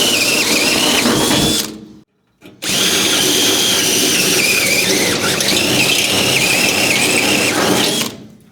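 A step drill bit cuts through the steel body of a 1965 Thunderbird convertible during rust repair, producing a loud grinding squeal that stops briefly, then resumes steadily for several seconds before cutting off.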